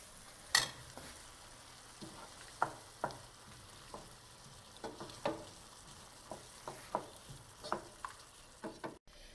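Arborio rice risotto with asparagus simmering in a pan as vegetable broth is added, quiet bubbling and a series of soft spoon-stirring scrapes and taps at an irregular pace, no talk.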